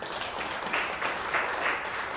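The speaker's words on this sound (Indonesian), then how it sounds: "Tepuk tangan untuk itu." Steady clapping from an audience at a school opening ceremony for a digital programme, a continuous even wash of applause with no pauses.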